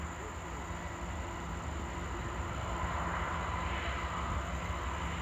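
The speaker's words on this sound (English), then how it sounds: "let's watch this coal train come down" A loaded coal train with six pusher locomotives easing downhill around Horseshoe Curve, Pennsylvania, heard as a faint, distant, steady rumble and drone that swells slightly toward the end, with no talking.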